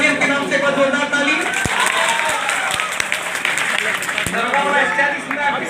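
Hearty applause from a crowd at a talk on police sub-inspector exam preparation, broadband clapping running throughout with occasional sharp individual claps, mixed with voices and chatter.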